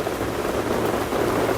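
Steady, dense rain falls outdoors, a continuous close hiss of drops hitting surfaces with no pauses and no voices.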